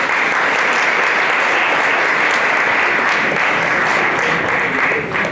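A crowd at a formal community event applauds loudly and continuously for over five seconds, dense clapping close by with a faint murmur of voices underneath.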